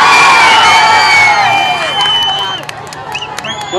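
Large outdoor crowd at a political road show in Visakhapatnam whistling shrilly and cheering loudly, several long piercing whistles over a roaring din that eases slightly toward the end as sharper claps and shouts break through.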